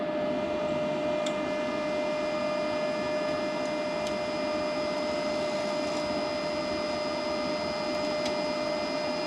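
A YESWELDER MIG-250 PRO MIG welder feeds wire through a 15-foot lead, giving a steady, unbroken motor whir with a faint high whine, close and alone for the whole stretch.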